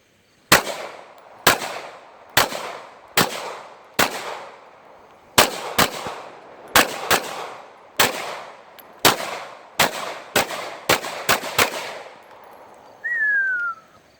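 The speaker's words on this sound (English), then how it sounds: "Shooting the HK P30L 9mm." Sharp gunshots from an HK P30L 9mm pistol, about fifteen loud, close reports in uneven bursts with brief ringing decay, ending with a faint high tone.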